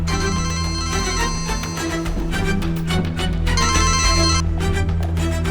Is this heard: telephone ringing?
yes